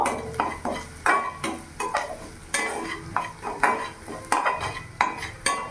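Salt, turmeric and chilli powder being stirred in a pan for a bread chop filling, with repeated spoon scrapes and clinks in a steady rhythm over a light sizzle, close and moderately loud.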